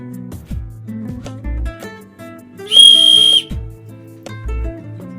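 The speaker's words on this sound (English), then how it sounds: "the last thing we have is a whistle" A small emergency whistle from a 37-piece survival tool kit gives one shrill, steady blast lasting under a second, loud and close over soft background music.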